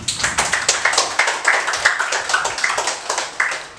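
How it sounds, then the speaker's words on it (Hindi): A class of students claps together in a quick, steady rhythm, a run of sharp, even hand claps for several seconds. "ताली बजाओ इसके लिए।"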